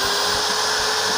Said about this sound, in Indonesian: Ini kita lubang pakai bor ya.